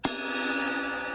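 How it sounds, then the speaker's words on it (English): A drumstick strikes a jazz drum-kit cymbal up near the bell, giving one sharp bright hit that rings on as a sustained shimmering wash, close and alone. "And if you hit up top towards the bell,"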